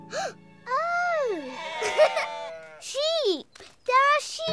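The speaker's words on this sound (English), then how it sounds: "There are sheep outside!" Cartoon sheep outside bleat several times in wavering, drawn-out cries, close and fairly loud, with brief gaps between calls.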